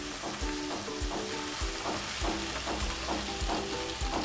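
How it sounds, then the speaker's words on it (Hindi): Garlic and onion sauté in a pan, a steady close sizzle running throughout with regular scraping strokes of a spoon stirring about twice a second, no voices. "लहसुन को हम थोड़ा सा सौटे करेंगे और इसके साथ ही मैं प्याज डाल दूँगी और इन दोनों को हम एक साथ थोड़ा सा सौटे कर लेंगे"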